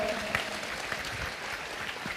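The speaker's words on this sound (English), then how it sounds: "Let us once again give a big round of applause" Audience applause at a live youth festival event, a steady wash of clapping from a crowd holding at even loudness throughout with no speech over it.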